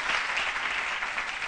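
Studio audience at a French midday television show breaks into steady, loud applause, a dense continuous clapping that fills the whole moment without pause.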